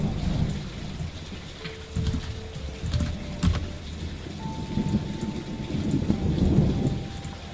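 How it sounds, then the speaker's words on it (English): Steady rain hisses while low thunder rumbles and cracks throughout, moderate in level, with a few faint tones and light tapping over the storm. "we've got thunder happening in the background"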